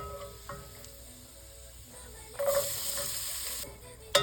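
Onion frying in a pan with ghee, cumin and neem leaves makes a soft, quiet sizzle, rising in a brighter hiss partway through as it is stirred, with faint kitchen clatter and no talking.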